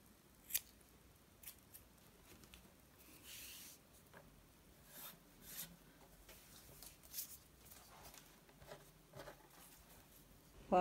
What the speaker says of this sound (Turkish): İplerin ucunu kesiyorum.